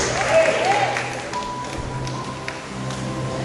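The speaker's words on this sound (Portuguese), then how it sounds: "dá uma salva de palmas para Jesus pelo poder da sua palavra" A church congregation claps together after a sermon reading, a brief burst of applause mixed with a preacher's voice and shouts, fading as the speaking continues over low room noise.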